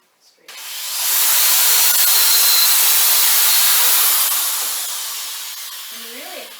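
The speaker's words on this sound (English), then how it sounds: "So pre-drilling the holes." Electric drill pre-drilling holes in wood at a woodworking retreat, a steady close whine that runs several seconds, then tapers off with a brief voice at the end.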